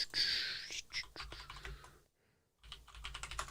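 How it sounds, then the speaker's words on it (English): Fingers type on a computer keyboard up close in a rapid run of crisp clicks, stop briefly for a near-silent gap, then start clicking again. "I'm just typing that in."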